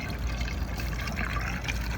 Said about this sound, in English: And you pour it in here